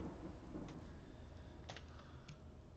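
Thunder and rain in the video game Space Engineers: a faint, distant low rumble over a steady hiss of rainfall, with a few soft crackles.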